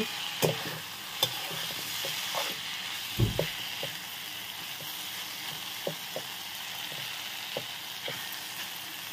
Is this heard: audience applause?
no